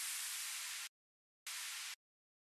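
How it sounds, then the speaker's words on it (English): A dubstep exhaust or downlifter effect plays as two short, flat bursts of bright white-noise hiss, each stopping abruptly, separated by a gap of silence and heard faintly. "exhaust or downlifters, I don't know what you guys call them"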